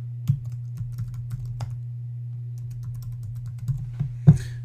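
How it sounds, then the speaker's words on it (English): Password being typed on a computer keyboard, scattered light key clicks at an uneven pace over a steady low electrical hum, ending with one louder keystroke, close and without talk. "And my password I will type in."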